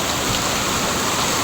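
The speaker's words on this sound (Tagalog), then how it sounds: "Malakas ulan." Heavy rain pouring down in Tondo during a downpour with flooding, a dense, constant, loud hiss of falling water close by with no voices.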